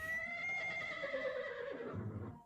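Film soundtrack with a horse giving one long, loud, quavering whinny that falls in pitch and fades, ending on a low snort-like rumble.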